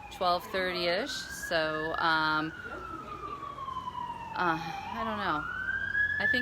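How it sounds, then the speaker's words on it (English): An emergency vehicle siren wails in the background, rising and falling in long sweeping tones, while a person talks over it in the foreground. "sorry about the siren in the background"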